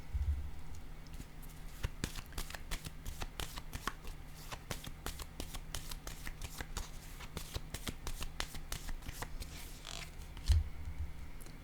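Tarot cards are shuffled in a fast run of crisp riffling flicks heard close up, followed by a card being laid down with a soft tap, with no one speaking.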